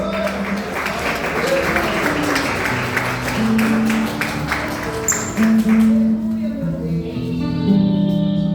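A church congregation claps steadily for an evangelist, loud rhythmic applause that thins out toward the end, while sustained keyboard or organ notes play underneath.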